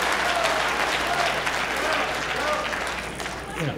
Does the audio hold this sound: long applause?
yes